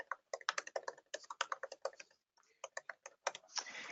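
A property address being typed on a computer keyboard: quick bursts of close, crisp keystrokes with a short pause partway through, alone in a quiet room.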